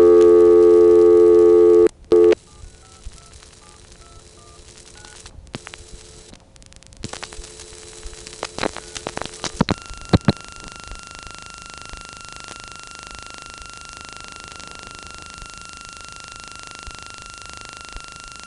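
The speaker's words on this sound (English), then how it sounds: "This has dumped into a rather noisy trunk with NX1 power supply noise on top of it." Old Greenville, North Carolina coin telephone line after dialing 115: a loud tone cuts off, clicks and brief tones follow, then a noisy trunk settles into steady hiss and power supply hum with a faint continuous tone.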